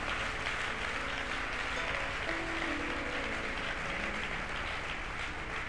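Church congregation cheering and applauding, a steady roar of clapping and voices held at an even level throughout, fairly distant and washed out.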